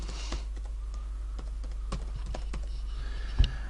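Typing on a computer keyboard into a blank text-editor document: a steady run of light, close key clicks with one louder tap near the end, over a faint low hum.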